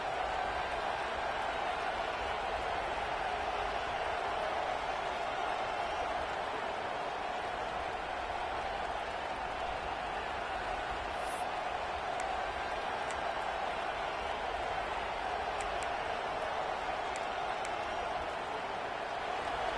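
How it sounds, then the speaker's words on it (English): A home crowd at a football stadium keeps up a steady, dense roar of cheering throughout, a wide distant wash of noise with no clear breaks. "this home crowd is fired up and ready to make a difference today"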